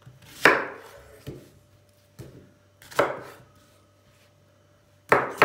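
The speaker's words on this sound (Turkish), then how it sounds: "Soğanlarımızı soka şeklinde doğrayacağız." A knife chops onions on a board in about five separate sharp strikes with pauses between, close and crisp with little else audible.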